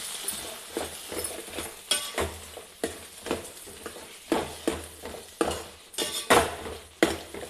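Drumsticks and dry prawns with chilli powder and cumin-coriander powder are stirred in a frying pan, a spoon scraping in repeated strokes roughly once a second over a steady sizzle, with occasional clinks of metal on the pan.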